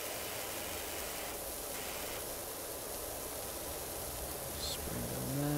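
A pressure washer in PowerWash Simulator sprays a continuous, dense hiss at steady loudness throughout, cleaning a bungalow roof, with a brief tonal blip near the end.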